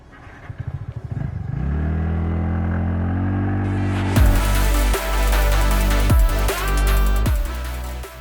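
A TVS NTorq 125 Race XP scooter starting from idle and riding off, its small engine revving up, with a few throttle blips and gear-like surges as it pulls away nearby.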